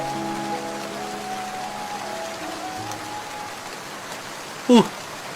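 Steady rain hisses softly throughout, with one sharp knock standing out near the end.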